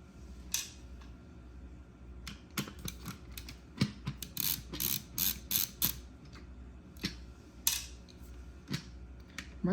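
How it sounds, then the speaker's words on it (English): Screws being removed from the rear HVAC control panel of a 2008–2009 Hummer H2, heard as close, quiet ratcheting clicks and small metallic ticks in irregular bursts. "So we're gonna need to remove the screws."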